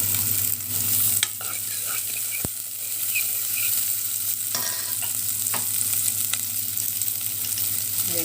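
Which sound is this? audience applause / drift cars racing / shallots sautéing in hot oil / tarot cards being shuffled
shallots sautéing in hot oil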